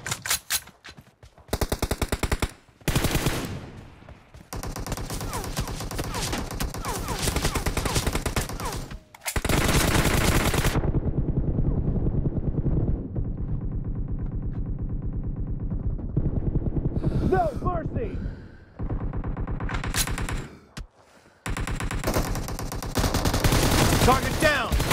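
Rapid gunfire bursts from a mobile battle-royale shooter, PUBG Mobile, played on an Oppo F5 Youth phone, loud and near, with repeated automatic volleys separated by brief silences and broken by louder single shots.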